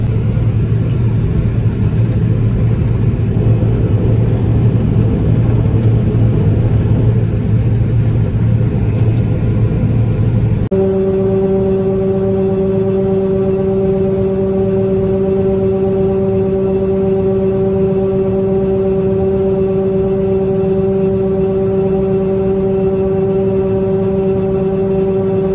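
A combine harvester engine runs steadily during a sunflower harvest, giving a constant loud mechanical drone with a low rumble. Partway through it shifts to a steadier tonal hum with no breaks, and no one speaks.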